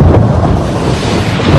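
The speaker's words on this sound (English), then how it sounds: "it's a Category 5 storm, with winds topping out at 160 miles per hour" Category 5 hurricane with winds topping 160 miles per hour, a continuous loud roar of wind and storm noise with heavy low rumble, steady and unbroken throughout.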